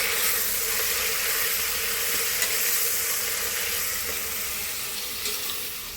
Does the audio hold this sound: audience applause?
no